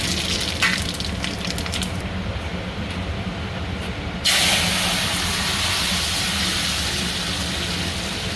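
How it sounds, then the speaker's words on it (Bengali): Five-spice, cumin, bay leaf and dried chili hit hot oil for tempering, giving a continuous crackling sizzle that jumps louder partway through and keeps hissing steadily. "তেল গরম হয়ে গেছে, সম্বারায় দেবো 5 ফোড়ন, অল্প একটু জিরে, তেজপাতা,"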